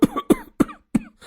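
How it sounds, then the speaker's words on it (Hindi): A man coughs four times in a quick, rhythmic series of sharp, close bursts, followed by a brief softer sound. "जो बहू को देखकर खांसने लगते हैं"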